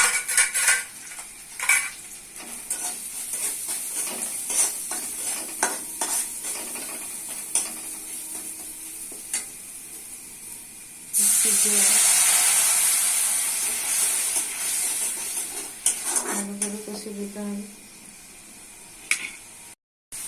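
Spices frying in a pan: clinks and scrapes of a utensil stirring against metal, then a loud surge of sizzling hiss for several seconds before more stirring, close by with no voices.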